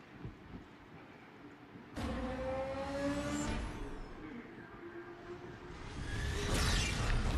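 A BMW M3 GT races in Need for Speed on an iPad, its engine roaring in abruptly and holding a steady rising drone with whooshing passes and a louder surge near the end, no speech.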